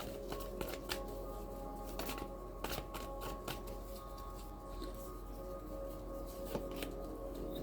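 Tarot cards shuffled and drawn in a quiet room, with soft continuous riffling and sliding broken by a few sharp card snaps and flicks, fairly faint throughout with no talking.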